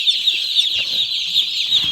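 A flock of chicks peeps continuously in a dense, high-pitched chorus, with some hens clucking softly underneath, close and fairly loud.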